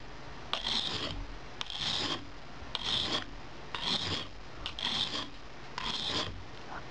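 A knife drawn in long strokes across the coarse side of a whetstone, giving about six steady, close rasping scrapes with short pauses between them.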